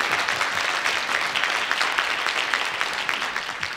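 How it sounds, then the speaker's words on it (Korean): Audience applause fills a talk on regional life and a Hadong gimbap business, dense steady clapping from a crowd lasting the whole stretch with no voices on top. "박수 한번 쳐주시겠습니까?"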